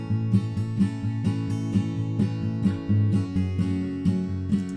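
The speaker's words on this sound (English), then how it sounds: "So all the guitars together sound like this." Layered guitars in a song fill the mix: picked notes, strummed chords and a low guitar bass note blend into a dense, sustained texture with a steady rhythmic pulse.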